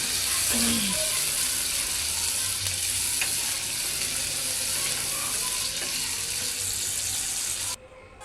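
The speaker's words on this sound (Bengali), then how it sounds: "তারপর পেঁয়াজ দিয়ে দিব পেঁয়াজগুলো একটু নরম হয়ে আসছে" Onions soften in two tablespoons of oil in a hot pan for a chicken liver bhuna, giving a steady, close sizzle with faint scraping that goes on unbroken until an abrupt stop near the end.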